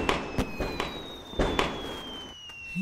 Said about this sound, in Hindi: ये लोग पटाखे क्यों फोड़ रहे हैं?